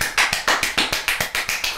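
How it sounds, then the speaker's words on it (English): A man claps extremely fast in a clip being played back, producing a crisp, steady run of about a dozen sharp, evenly spaced claps at a quick rhythm, close and loud, with no voices. "You guys ever watch this video? The guy does the clapping."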